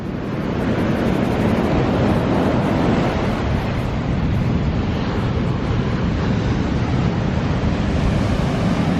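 Ocean surf breaks steadily along a shoreline, a continuous loud wash of white water with wind buffeting the microphone throughout.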